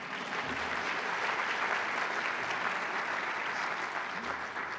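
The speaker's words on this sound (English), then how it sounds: "And everybody can clap for Kalen." An audience at an afternoon author talk claps together in a steady, even round of applause, many hands at moderate distance sustained for about five seconds without talk over it.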